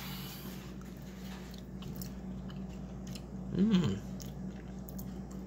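Close, soft chewing of homemade peanut butter fudge, with a brief louder squishy bite near the end over a steady low background hum, and a short murmur of satisfaction.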